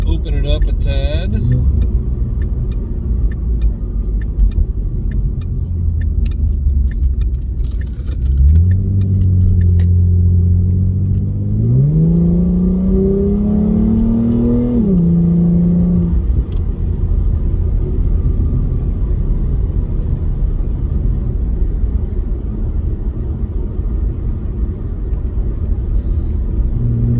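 A 2016 Ford Mustang V6 with a Beluga EX-F02 axle-back exhaust, heard from inside the cabin: a steady low rumble with a rev that rises in stepped pitch climbs midway, then settles back to idle drone.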